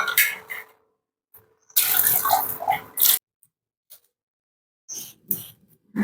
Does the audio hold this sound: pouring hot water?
yes